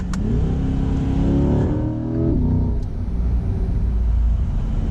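A 2021 C8 Corvette, a mid-engine car, accelerates from the driver's seat, its engine note rising and falling through gears in a loud, steady rumble with no one talking.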